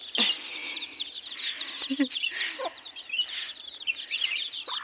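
Chickens clucking and calling inside a village farm shed, with repeated short clucks and chirpy calls from several birds close by, steady throughout.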